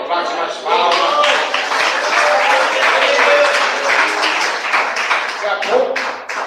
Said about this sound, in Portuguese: Bate mais palmas.